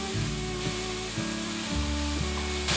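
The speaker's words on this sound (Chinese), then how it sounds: "油热了之后，放入金针菇炒香， 来回不停的翻炒" Enoki mushrooms stir-frying in hot oil in a wok, a steady loud sizzle with periodic scraping and tossing strokes roughly every half second as they are turned constantly, no talking.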